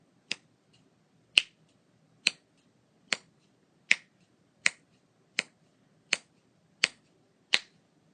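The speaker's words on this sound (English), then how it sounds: "How long did it take me to snap my fingers 10 times?" Ten sharp finger snaps ring out one after another at a steady, roughly even pace of just under one per second, each crisp and close against a quiet background.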